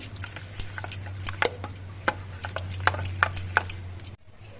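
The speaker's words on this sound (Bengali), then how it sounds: "এবার সব ডিমগুলোই একসঙ্গে ভালো করে মিশিয়ে নিচ্ছি" Six eggs beaten together in a bowl for breakfast, with quick, irregular light clicks and taps of a utensil against the bowl, faint and close, stopping abruptly at the end.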